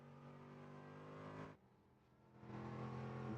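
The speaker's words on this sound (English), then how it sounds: "That V8 engine is certainly purring to say the least." A V8 race car engine at a Del Mar racing event rumbles steadily and loudly nearby, dips briefly as the revs drop, then swells back to a strong, smooth drone.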